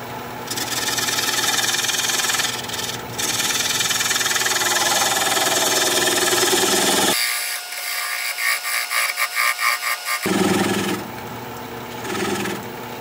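A gouge cutting into a wooden bowl turned from a log on a lathe makes a steady, loud, close scraping hiss over the motor hum. Partway through it gives way briefly to a rhythmic, pulsing chatter before the steady cut returns.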